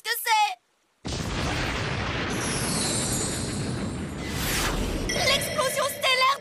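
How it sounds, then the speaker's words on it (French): A sustained roaring blast from the cartoon Beyblade Pegasus special attack fills several seconds with a whooshing rush and rising shimmer, loud and continuous, framed by brief voices at the start and excited speech near the end. "L'explosion stellaire de Pegasus!"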